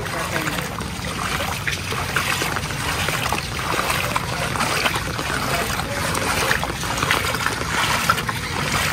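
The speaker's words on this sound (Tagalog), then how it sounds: "bumubulwak na po yung tubig dito sa patubig" Floodwater after a typhoon gushes through a rural irrigation channel in the Philippine countryside, a dense, constant rushing and splashing heard up close and loud throughout.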